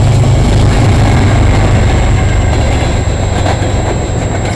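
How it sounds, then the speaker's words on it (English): A CN westbound freight train with locomotive 2288 passes close by near London, Ontario, a loud continuous rumble and roar of wheels on rail with faint squeal, steady throughout. "we got a CN westbound coming down the line with 2288"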